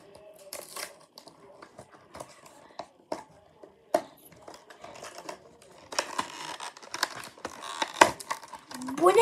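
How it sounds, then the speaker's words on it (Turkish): A package being opened during an unboxing: irregular crinkling, tearing and rustling at close range, quiet at first and growing busier and louder toward the end. "Bir tane de daha paket çıktı. Arkadaşlar hiç açmadım sizinle. Açıyorum."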